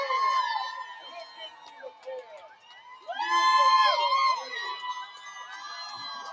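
A parade crowd at a Pride march cheers and whistles, with loud bursts of shouting, whooping and whistles rising and falling over several seconds, mixed with nearby voices.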